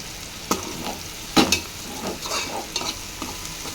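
Onions frying in a pan for a bitter gourd and tomato curry, stirred with several sharp spatula scrapes and clacks over a soft continuous sizzle, heard up close without speech.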